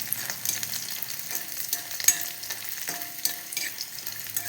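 Onions sauté in hot oil in a pan for a chilli chutney, giving a bright, continuous sizzle broken by frequent clicks and scrapes of a stirring spoon, close and fairly loud.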